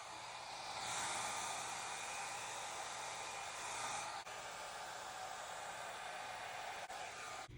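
Steady close airflow from a blower pushing acrylic paint around in a Dutch pour blowout, one continuous hiss that swells briefly then settles to a constant rush, with faint clicks.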